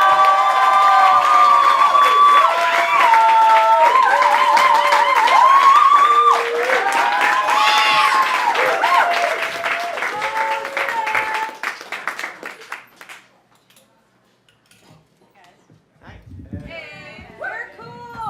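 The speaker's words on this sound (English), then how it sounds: "please clap all the way to the stage for our feature, Maya" An audience at a poetry reading claps and cheers loudly for a featured poet walking to the stage, with whoops and shouts over steady applause. The noise dies away, and then the poet begins speaking.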